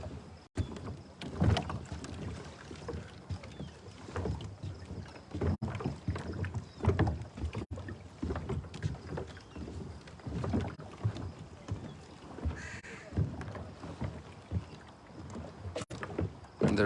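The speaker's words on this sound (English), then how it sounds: "Big boats, powerful engines." Boat engines on open water with wind buffeting the microphone, a steady broad rumble with surges and gusts running throughout, moderately loud and with no talking.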